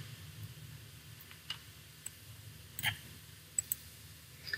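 Quiet mouse clicks while saving a report in QuickBooks Online, a few sharp, isolated ticks spread over a low steady hum.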